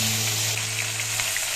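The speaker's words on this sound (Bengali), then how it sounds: "সর্ষের তেল গরম করে 5টা মাছই একসাথে দিয়ে এপিট ওপিট করে ভেজে নেব।" Five koi fish sizzle in hot mustard oil in a pan, a loud, steady, close crackling fry with no pauses and no voices.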